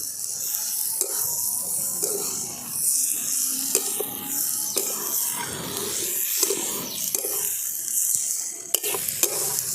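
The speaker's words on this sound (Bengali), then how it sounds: "সমস্ত মশলার সঙ্গে এগুলোকে মিশিয়ে দিচ্ছি।" Shyama rice khichuri with spices is stirred and fried in a pan, giving a continuous loud sizzle with repeated scraping and clinking of a spatula against the pan, steady and close, no voices.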